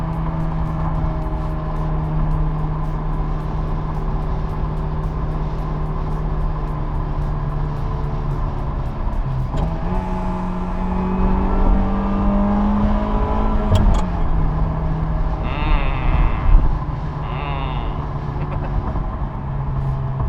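A 1980 Ferrari 308 GTSi engine drones steadily at cruising speed in fourth gear, a low constant hum with a brief swell and dip in pitch partway through, heard from inside the car.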